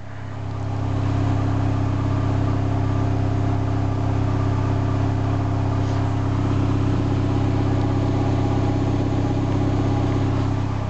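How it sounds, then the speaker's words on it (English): Exhaust of a 2005 Cavalier car running steadily, a loud, close, continuous low rumble with a smooth idle-like drone and no voices. "Show you the exhaust sound"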